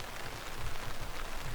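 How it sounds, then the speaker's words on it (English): Rain falling steadily outside a shelter beside the North Fork of the John Day River, a faint, even patter with soft irregular drops. "It is raining outside quite a bit."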